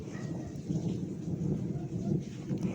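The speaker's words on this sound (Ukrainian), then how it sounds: "Дощик іде." Steady rain hissing over a low, continuous rumble in a village street with puddles, with no voices present.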